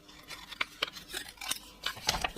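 Scissors snip through a piece of paper for a travel album journaling page, a handful of short crisp cuts in an irregular rhythm, close and fairly quiet with no voices.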